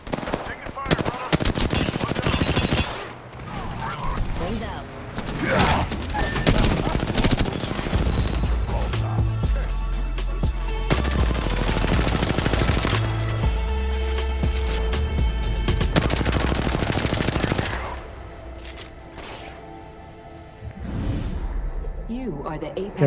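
Automatic weapon fire in the battle royale game Apex Legends, sustained loud bursts and rapid volleys stretching across most of the stretch, with game effects and a voice talking over the shooting.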